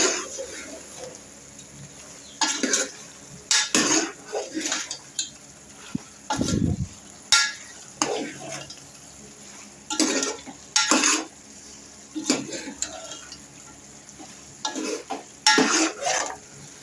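Spiced curry with coriander powder being stirred and mixed in a pan, with repeated sharp metal spoon scrapes and clinks against the pan in irregular bursts over a quiet low sizzle.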